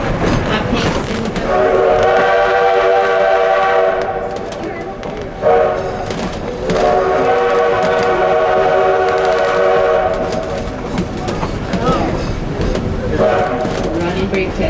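An 1880 train passes by in Keystone, South Dakota: loud, continuous rolling rumble with a sustained horn blast and a second whistle, close by, with people talking faintly underneath.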